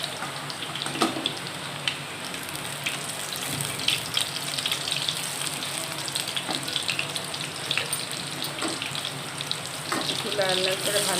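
Flowers sizzling and crackling as they fry in hot oil in a home kitchen, a steady close-up hiss with small pops throughout, along with faint clinks and a brief trickle of water near the end.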